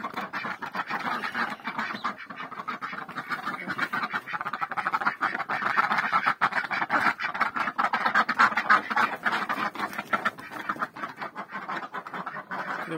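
Ducks quack steadily and loudly at feeding time in a farmyard, a dense, continuous chorus of overlapping calls with no talking.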